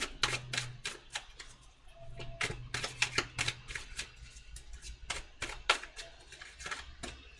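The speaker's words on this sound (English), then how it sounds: "One more shuffle." Tarot cards being shuffled by hand, a run of quick crisp riffling slaps and flutters in bursts, close and fairly quiet, with a low steady hum beneath.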